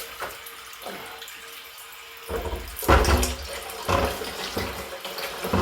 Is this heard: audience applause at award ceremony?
no